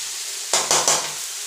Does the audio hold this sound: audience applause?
no